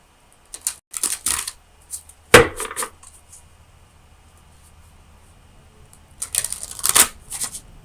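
Oracle deck cards being shuffled for a Capricorn love tarot reading: two brisk riffling bursts near the start, a sharp snap and a short rustle, then another quick shuffle near the end, close and distinct with no talking.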